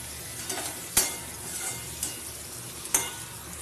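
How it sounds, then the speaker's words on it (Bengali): Whole cumin seeds sizzle in hot oil as a tempering for a thin pabda fish curry with pumpkin, a soft continuous crackle marked by a few sharp clinks of a spoon against the pan. "এখানে গোটা জিরে ফোড়ন দিয়ে দিলাম"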